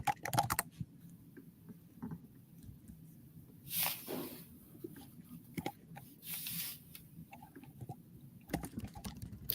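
Quiet, close clicking of fingers typing on a computer keyboard, irregular bursts of keystrokes with small pauses and a few sharper taps, no voices.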